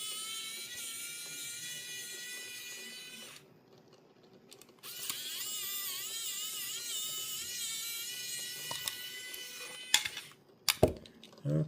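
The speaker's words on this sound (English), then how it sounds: "Mattel really torques these screws down" An electric screwdriver whining as it backs tight screws out of the base of a Mattel diecast car, with a steady high motor tone, a pause, a second longer run whose pitch wavers, then clicks and clatter at the end.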